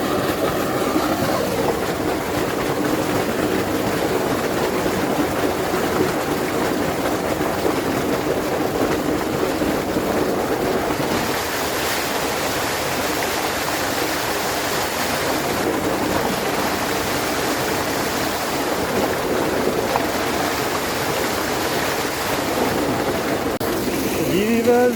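Water gushes steadily from a pipe fed by an electric motor pump in very hot weather, a dense continuous splashing roar that stays even and close throughout, with no clear voices.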